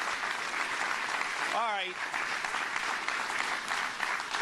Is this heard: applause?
yes